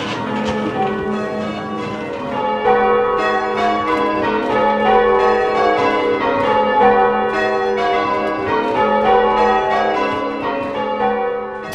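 Church bells rung in a tower peal one after another in a steady, overlapping rhythm, loud and ringing with long resonant tails and no voices.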